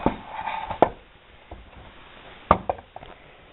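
A homemade mini grinder flipped over on a hard surface, a few knocking thuds and clatters as the tool is handled and set down, close by with quiet pauses between.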